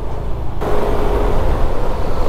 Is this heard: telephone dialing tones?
no